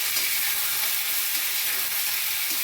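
Mint and coriander leaves sauté in a hot pan for tomato chutney, giving a steady, even sizzle with a faint hiss and no voices.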